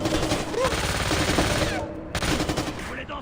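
Bursts of automatic gunfire in the co-op shooter Splinter Cell Conviction, rapid and loud. The shots break off briefly near the end, then resume, with shouting voices mixed in.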